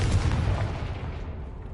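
A Confringo blast spell explosion in a Hogwarts game, one loud booming burst at the start that rolls into a fading rumble.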